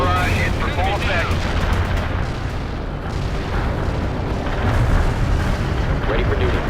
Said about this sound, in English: Artillery barrage in for full effect.